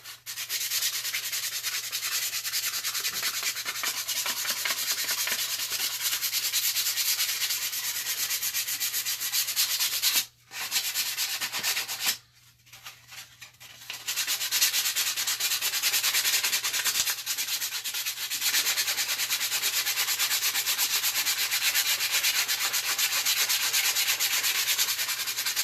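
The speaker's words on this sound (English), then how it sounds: "I'm just going back over with 150 grit to make it more smooth" Plastic of a Nerf toy gun being sanded smooth with 150-grit sandpaper: a steady, close, rapid rasping scrub that runs on continuously with two brief pauses near the middle.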